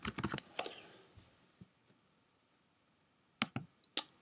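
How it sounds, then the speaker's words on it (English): Typing on a computer keyboard, a quick burst of close key clicks at the start, then a few scattered taps and a short second flurry near the end, quiet and alone against a faint room hush. "let's just type barefoot"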